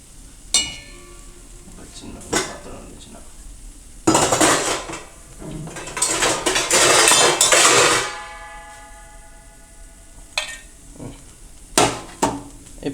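Fried brinjal and lentil pieces lifted out of a pan with a metal utensil: sharp clanks and scrapes against the cookware, with a loud burst of sizzling frying noise midway and scattered clinks at either end, close by.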